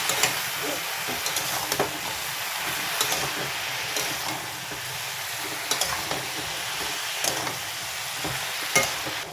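Vegetable curry, a salted mix of vegetables cooked without spices, being stirred in a frying pan: steady broadband sizzle with repeated scraping strokes of the spoon at irregular intervals, close and moderately loud, no talking.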